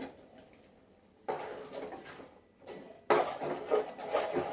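A spoon stirring avarekalu curry in a metal pot, with scraping and clinking in bursts separated by quieter pauses, growing louder toward the end, and no talking.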